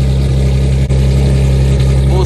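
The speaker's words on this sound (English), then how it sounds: "The nice exhaust he got down there, though." A Nissan GT-R with an aftermarket exhaust idles nearby at a street race, a steady, loud, deep rumble throughout.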